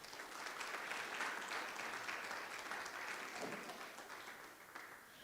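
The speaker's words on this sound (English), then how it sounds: "All right, how about a round of applause for these guys?" Audience applause at a Guide Dogs for the Blind class graduation, a steady wash of many hands clapping that holds for several seconds, then gradually thins toward the end.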